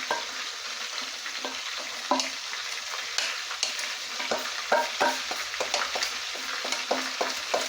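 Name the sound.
onions frying in a pan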